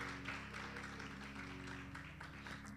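Church congregation clapping for their pastor at a pastor and wife appreciation service, a steady, faint wash of hand claps running under sustained organ or keyboard chords.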